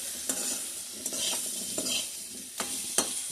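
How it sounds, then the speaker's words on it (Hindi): Spiced radish pickle with amchur is stirred in a pan, with about six distinct spatula scrapes and knocks over a soft, steady sizzle, close up and without voices. "अब इसके बाद हम इसको अच्छी तरीके से चला लेंगे।"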